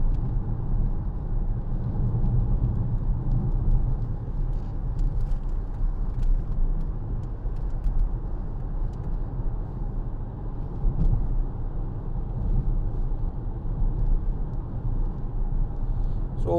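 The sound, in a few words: 2014 Vauxhall Insignia 2.0 CDTi driving on road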